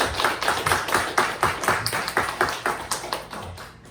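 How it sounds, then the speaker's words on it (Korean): A church congregation at Sunday worship claps in a rhythmic, even beat, around a dozen sharp bursts of hand claps in steady time that fade near the end. "우리 모두에게 서로 각자에게 우리 박수 한번 드립니다"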